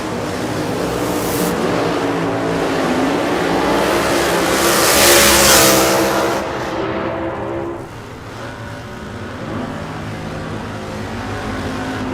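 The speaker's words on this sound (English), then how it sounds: "Paul Dagrapont and Chad Green doing the burnouts over there, lanes 3 and 4." Pro Mod drag race cars, including Chad Green's 959-cubic-inch nitrous car, rev hard through burnouts in lanes 3 and 4 at ZMAX Dragway, a loud sustained engine roar that swells mid-clip then eases to a steady rumble.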